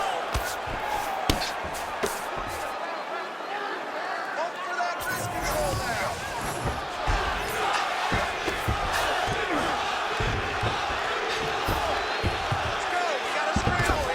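An arena crowd roars and cheers through a UFC bout between Khabib Nurmagomedov and Jack Della Maddalena, a sustained wash of noise with swelling shouts, under commentators talking throughout.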